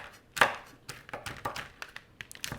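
A knife roughly chops cooked bacon on a cutting board, giving a run of quick, uneven chopping knocks, one sharp stroke standing out among lighter taps.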